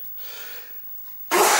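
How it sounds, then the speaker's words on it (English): A person sneezes from dust while cleaning an old Stargate arcade cabinet under restoration: a soft breathy inhale, then one loud, abrupt sneeze burst up close. "they kick up a lot of dust, which makes me sneeze like crazy"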